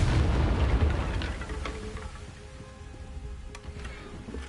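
A Confringo fire spell explodes in the Hogwarts Legacy video game, opening with a loud, deep booming burst that slowly fades into a rumbling tail with scattered small crackles.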